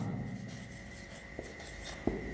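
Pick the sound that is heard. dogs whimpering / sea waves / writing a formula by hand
writing a formula by hand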